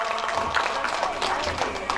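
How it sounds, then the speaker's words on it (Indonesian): An audience of parents at an Islamic boarding school arts show claps together, giving brief, steady, moderately loud applause with a hint of voices mixed in. "tepuk tangan dulu Bapak Ibu."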